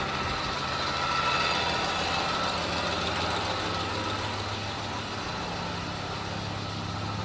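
A 1995 Volvo 854 engine, running again after 12 years, idles steadily with a low, even rumble throughout, no revving or voices.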